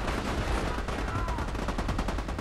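Rapid video game gunfire from Army of Two rattles in dense repeated bursts at a moderate level, steady across the whole stretch.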